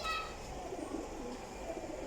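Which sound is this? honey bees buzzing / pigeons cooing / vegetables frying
pigeons cooing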